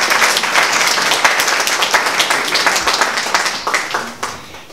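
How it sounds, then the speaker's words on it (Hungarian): An audience gives a big round of applause at a professors' club event: dense, loud, sustained clapping from many hands, steady throughout and easing slightly near the end. "egy nagy tapsot megérdemel"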